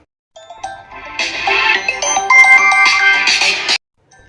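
A phone ringtone plays loudly on its own, a bright repeating electronic melody that builds and then cuts off abruptly.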